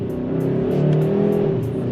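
A 2023 Hyundai Sonata N-Line accelerates with a sustained engine drone that climbs in pitch, heard from inside the cabin at close range, with no talking.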